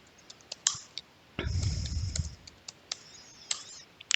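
Password being typed on a computer keyboard for the Linux passwd command, a run of separate key clicks with a louder burst in the middle, close and alone with no talk.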